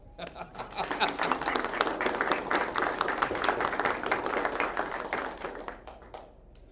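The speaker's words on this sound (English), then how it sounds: "so let's applause" Audience applause at a book presentation event in a small venue, a fairly soft, steady patter of many hands that swells, holds for several seconds and tapers off.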